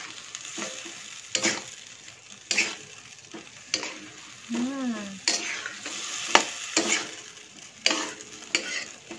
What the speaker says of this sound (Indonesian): Oke, kita aduk-aduk dulu.